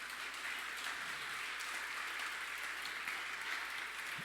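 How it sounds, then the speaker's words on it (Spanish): A congregation in a church claps for a sustained stretch, a soft, even, distant wash of applause that stays uniform throughout with no voices on top. "Dale un fuerte aplauso, por favor."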